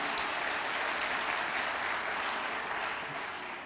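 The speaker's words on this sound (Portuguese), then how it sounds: "Vamos aplaudir Jesus por essa introdução, querido" A church congregation applauds during a sermon, a dense, steady wash of clapping that fills the space and fades slightly toward the end, with no voices standing out.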